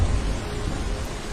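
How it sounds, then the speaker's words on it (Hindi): Heavy rain pours down in a dense, continuous roar with deep low rumbling of thunder underneath, loud and steady throughout with no voices. "उसी दिन शाम को तेज बारिश फिर से शुरू हो गई।"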